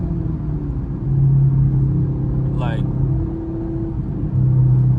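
Deep, steady engine rumble from a Camaro SS, low and continuous throughout with a slight swell in loudness, while people talk over it.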